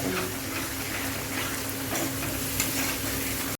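Dal with yogurt and a little salt being stirred in a frying pan, a steady close sizzle with scraping and stirring noises running throughout, no voices.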